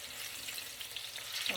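Chicken pieces browning in a pan on a stovetop for a chicken and pasta dish give off a soft, steady sizzle that holds at a low, even level throughout, with no voices.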